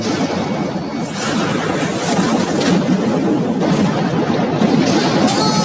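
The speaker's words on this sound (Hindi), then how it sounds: "तेज धमाका था।" A huge explosion as a Lamborghini meets the world's largest shredder, heard as a loud, sustained roar of dense crackling and rumbling debris that fills the whole stretch without a break.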